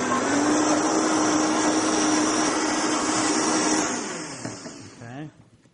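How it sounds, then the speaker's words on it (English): A blender whirs loudly and steadily at close range, blending a drink until it turns foamy and frothy, then winds down near the end, where a brief voice is heard. "So let's blend it up."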